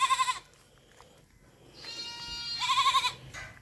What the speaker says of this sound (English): Got all kinds of goats.